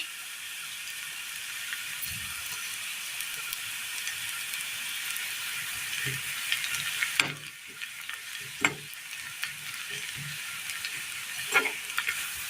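Dried kanthari chilies fry in hot oil in a pan for a Kerala curry, making a continuous bright hiss and sizzle, broken by several scraping knocks of a spoon stirring, close and fairly loud with no talking.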